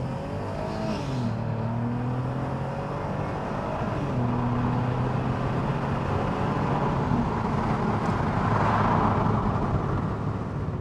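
An Audi TT 3.2 with automatic gearbox pulls away from a standstill, the engine note rising and stepping up through several gear changes, heard from inside the car, loud and steady.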